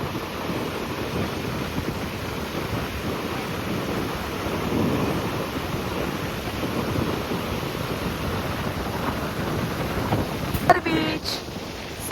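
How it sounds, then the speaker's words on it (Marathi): Sea waves roll and wind buffets the microphone at Ladghar beach, a continuous broad roar with faint surf surges and no clear voices. "समुद्राच्या लाटा आणि सूर्याची किरण आणि मस्त असा वारा सुटलाय लाडघर बीचला"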